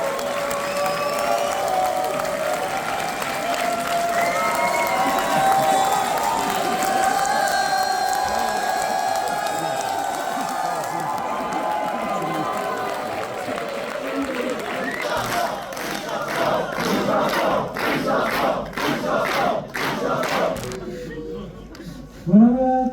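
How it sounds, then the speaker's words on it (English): Crowd at a South Korean horror film Q&A on stage applauds and cheers loudly and steadily, with whoops and voices mixed in, the clapping turning sharper and more rhythmic toward the end. "Tout le monde sur scène, vous applaudissez super fort"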